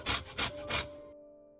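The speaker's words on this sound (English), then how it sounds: "I start off by zesting 1 lemon with a cheese grater." A lemon is zested against a metal cheese grater in three quick, close rasping strokes, followed by a short ringing metallic decay.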